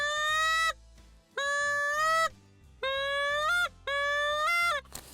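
A goose call blown with too little air pressure gives four drawn-out honking notes that fail to break over cleanly, each a steady nasal tone with a slight upward bend near its end, separated by short pauses and heard up close and alone.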